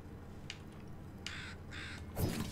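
Crow cawing in the side-scrolling action game Volgarr the Viking: a few short, harsh caws spaced apart over a low game-music bed, followed by a louder thud-like hit.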